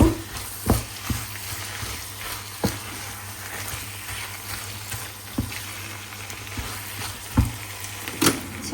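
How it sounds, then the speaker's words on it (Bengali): Spices, tomato and green chili fry in a pan with a loud, continuous sizzle, punctuated by regular scraping stirs and spatula knocks throughout. "এটা দিয়ে এখন আমি মিক্স করে ভাজবো"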